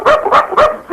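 A man vocally imitating a dog barking, three sharp yelping barks in quick succession, close and loud with no other sound.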